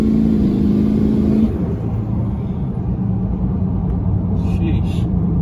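A low-mileage LBZ diesel pickup with a tuner revving as its tires spin, a loud engine roar for about a second and a half, then a heavy, steady rumble that carries on close by.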